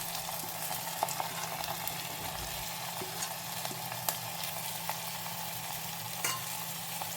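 Onion and curry leaves sauté in oil, a soft continuous sizzle with light scattered stirring clicks, close and faint, with no talking.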